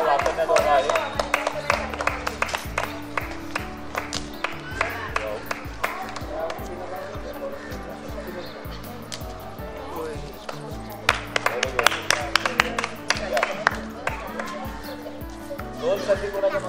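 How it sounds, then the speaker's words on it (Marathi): An audience claps loudly at a gathering, in two bursts of dense clapping, one at the start and another partway through. Steady talking runs between and under the applause. "यांच्यासाठी जोरात टाळ्या वाजवायच्या"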